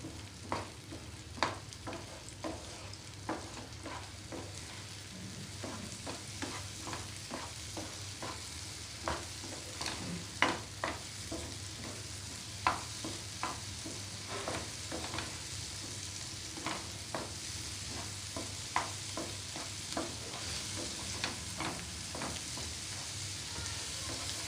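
Eggs fry and get stirred in a pan over a full gas flame, village style, with a continuous faint sizzle and regular light scraping strokes of the spatula repeating throughout.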